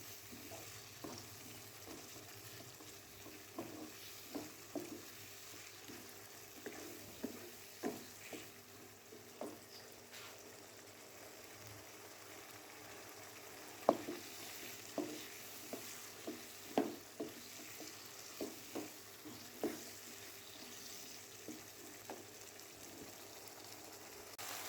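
Potatoes and capsicum stir-fried in masala in a pan, a quiet low sizzle broken by regular scraping stirs of a spoon, close by and without speech.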